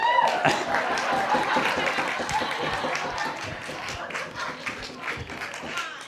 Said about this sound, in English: Give Madeline a round of applause.